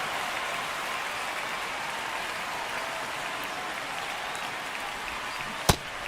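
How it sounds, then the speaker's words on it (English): Steady rain pours down over a baseball game in MLB The Show, a constant even hiss with one sharp click near the end. "This rain is not letting up."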